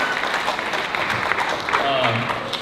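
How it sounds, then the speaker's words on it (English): Applause at a school film assembly, a close, loud burst of clapping from the audience with voices and cheers mixed in. "Big round of applause."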